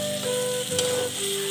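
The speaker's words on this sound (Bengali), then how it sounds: "লবণ দিয়ে ভেজে নিচ্ছি।" Potatoes, onion, capsicum and green chilli sizzle steadily in oil in a kadai with turmeric and salt, a close, even frying hiss with faint stirring scrapes and a thin background tone.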